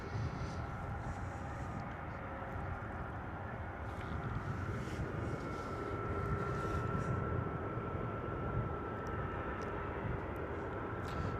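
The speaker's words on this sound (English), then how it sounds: "Hoping for a nice loud departure here from our A321neo as it flies past us." An Airbus A321neo departs and flies past, a faint, steady engine roar at a distance with low rumble, building gently toward the end.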